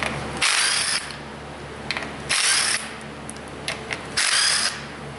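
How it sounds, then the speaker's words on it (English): A 10 mm ratchet spins out transmission pan bolts on a Toyota Matrix / Pontiac Vibe FWD, giving three loud bursts of rapid pawl clicking separated by short pauses, with no talk. "Now we're going to use our 10 millimeter, just go around and remove all the bolts."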